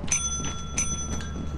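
A bell rings in Lethal Company, a couple of bright metallic dings repeating over a steady low background hum.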